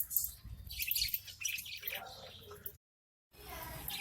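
Pet budgies chirp and tweet in quick, bright bursts while feeding on soft breeding food, with a voice partly beneath them and a short silent gap before the chirping resumes.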